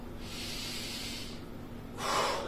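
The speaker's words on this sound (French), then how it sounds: "J'inspire par le nez." Slow, audible breaths drawn through the nose during an abdominal exercise, with a long soft inhale followed by a louder, sharper breath near the end, close and without talking.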